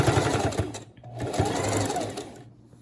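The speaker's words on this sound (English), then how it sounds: "Do a straight stitch on the edge." A sewing machine runs a straight stitch along the edge of a stretchy top, a rapid mechanical whir in two bursts with a short pause between, close and alone.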